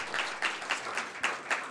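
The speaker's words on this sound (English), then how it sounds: "So a round of applause for them." An audience at an interfaith prayer and iftar gathering applauds. It is a brief burst of many hands clapping in quick, uneven waves, moderately loud and slightly roomy, with no speech over it.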